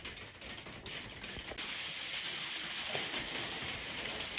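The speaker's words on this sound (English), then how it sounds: "Oh, what a surprise, it's raining again." Steady rain falls and patters on a surface, a soft continuous hiss with scattered drips, fairly faint and with no talking.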